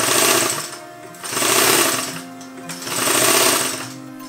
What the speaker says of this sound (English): sew the front and back pieces together, right sides together, with a 1/2 inch seam allowance